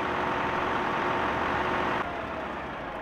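An old combine harvester in Farm Sim idles with a dense, steady engine drone that drops slightly in level partway through, continuous and close with no speech.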